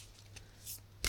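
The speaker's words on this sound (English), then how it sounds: "Give them a shuffle." Quiet riffling and sliding of tarot cards being shuffled by hand, with a few soft bursts, close by and without any talk.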